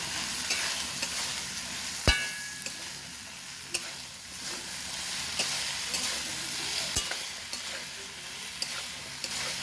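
Peas and potatoes for ghugni sautéing in a wok, with a steady close sizzle broken by a few sharp spatula clicks and knocks against the pan.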